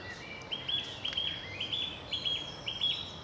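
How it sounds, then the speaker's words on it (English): A song thrush singing on a common along a woodland walking path on a grey day, a series of short, high, repeated phrases at moderate distance, fairly faint over quiet outdoor ambience. "There's the old song thrush to greet us."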